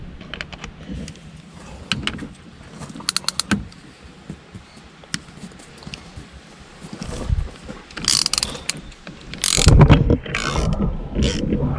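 Bolt on a Peugeot 3008 steering wheel being tightened, heard as bursts of ratcheting clicks and metallic clunks, louder scraping and straining knocks building toward the end, with no talk.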